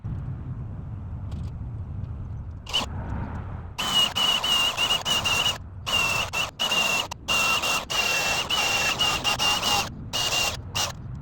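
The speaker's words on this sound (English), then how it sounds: "Now I'm going to grind the rust off a few small spots" An angle grinder takes rust off small spots on a boat trailer in intermittent bursts, each a loud high-pitched whine starting and stopping repeatedly over quieter outdoor background.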